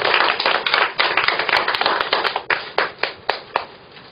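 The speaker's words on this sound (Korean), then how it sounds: "우리 모두 행복과 비전의 박수를 보냅시다." A lecture audience at a national reform talk claps in a sustained burst that thins toward the end into a few sharp, distinct, close claps.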